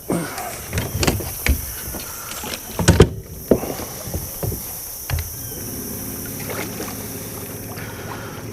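Trolling motor lowered on a fishing boat: a series of knocks and clunks of the mount, then a steady electric whine as the motor settles into position, heard up close outdoors.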